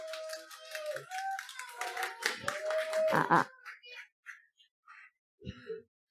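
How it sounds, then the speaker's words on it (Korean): At a children's church service for the infant and kindergarten departments, scattered clapping mixes with bright, excited voices calling out, loud at first, then thinning into a few sparse claps and brief sounds separated by quiet gaps. "큰 박수와 함께 앞으로 모시겠습니다"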